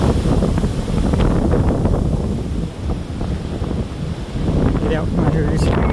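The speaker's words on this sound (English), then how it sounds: "Back in the bad part of the wind I don't like." Strong wind roars and buffets the microphone on the Bote Mountain Trail during a hike, a loud continuous rush that dips briefly midway before surging again.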